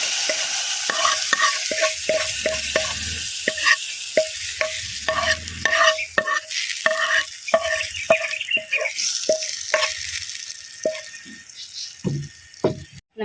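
Mustard seeds and chillies crackle and sizzle in hot oil as a tempering is poured into a ripe Nendran banana pulissery curry, with a busy run of sharp pops, spoon stirs and clinks that gradually thin out, without any talk.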